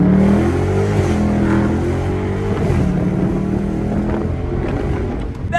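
A car engine revs and drones loudly while driving with all four windows down, the rising engine tone mixed with rushing wind that fades slightly near the end.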